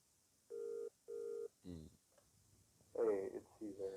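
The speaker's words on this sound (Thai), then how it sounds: "อ๋อโทรศัพท์" Telephone dial tone sounding in two short, even beeps, followed by a voice speaking over a faint background hum.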